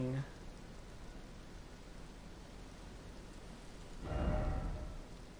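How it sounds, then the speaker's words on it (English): Steady rain in the video game Elden Ring falls as a constant broadband hiss, with a brief louder swell near the end, like a gust or distant rumble. "Now it's raining."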